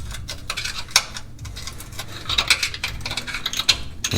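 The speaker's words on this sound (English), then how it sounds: "I'm going to pop it out with a flat screwdriver" A flat screwdriver pries a plasma-cut chunk of quarter-inch steel out of its frame, giving a quick scatter of close metallic clinks, scrapes and taps of moderate loudness with no speech.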